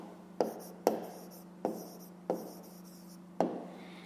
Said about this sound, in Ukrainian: а тепер записуємо відповідь. Тобто пишемо відповідь